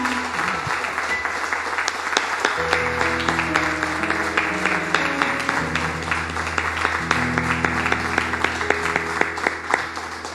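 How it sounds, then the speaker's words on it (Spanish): A church congregation applauds the Lord in sustained, dense clapping that carries on steadily, with a soft sustained musical tone, like an organ or keyboard, playing underneath. "Denle un aplauso al Señor"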